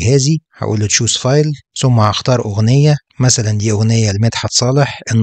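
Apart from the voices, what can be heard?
No everyday noise stands out behind the speech.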